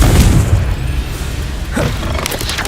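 A Confringo fire-blast spell in the Hogwarts Legacy video game erupts in a loud low boom, its rumble fading, then a second crackling burst follows near the end.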